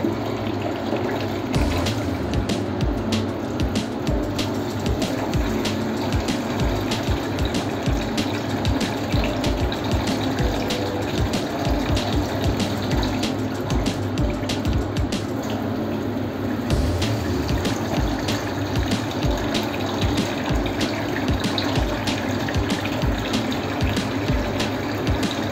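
Water drains steadily while chhana curd, made with vinegar, is strained through a cotton cloth for rasogolla, giving a continuous close trickling and splashing rush that stays even throughout.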